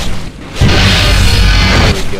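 Ship cannons firing in the space strategy game Nexus: The Jupiter Incident, a deep booming blast that swells after a brief lull and holds as a loud, rumbling roar for over a second before dropping off.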